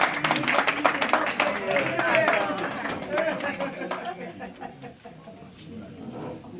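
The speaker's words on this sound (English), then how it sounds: "let's get Bessie another round of applause" An audience at a neighborhood community meeting claps for a speaker, scattered applause mixed with chatter and voices that fades out toward the end.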